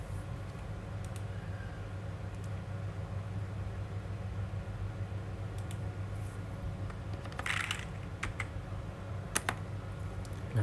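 Sparse, faint keystrokes tapped on a computer keyboard while entering a spreadsheet formula for an inventory-management calculation, with a final key press, all set against a steady low electrical hum.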